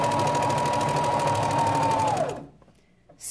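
A walking-foot sewing machine stitches through fabric in a fast, steady mechanical whir with a fine needle-hammering rhythm, loud and close, then stops abruptly near the end, leaving near-silence.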